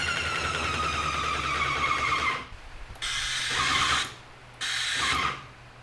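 Titan 400 Advantage airless paint sprayer running in spray mode after valve cleaning: a steady mechanical hiss and hum, then repeated bursts of spray noise broken by short pauses.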